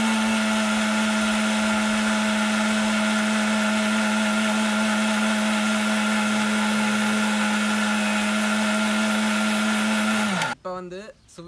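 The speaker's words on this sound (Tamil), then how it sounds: "சீனியை போட்டு சீனி நல்லா கலந்து வர வரைக்கும் நாங்கள் இதை மிக்சியில் அடிப்போம்." A kitchen mixer blends jackfruit juice with sugar in a loud, steady whir that runs continuously for about ten seconds before winding down and stopping abruptly.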